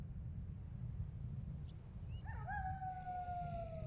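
Howl ability sound effect in a Warcraft III match: a drawn-out, rising and sustained animal-like howl enters partway through over a steady low game rumble, with faint blips before it.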